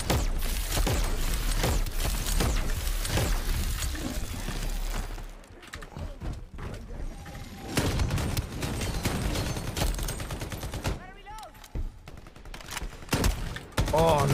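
Rapid bursts of gunfire from the online PvP shooter Shatterline, loud and nearly continuous, with clustered shots and brief pauses, while a player talks over the action.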